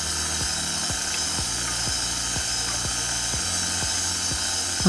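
An electric mixer whirs at low speed through cake batter with a steady hum, with regular soft knocks about twice per second as the beaters strike the bowl.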